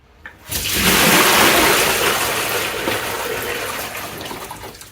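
Water rushes and splashes into a tray as a carbon transfer print is rinsed, a loud pouring surge that starts abruptly and slowly tapers off, with no talking.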